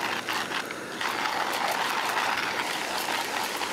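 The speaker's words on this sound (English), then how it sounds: "Let's grind some coffee." A hand grinder crushes coffee beans outdoors by a river, a close, steady, gritty ratcheting crunch that churns continuously, with no talking.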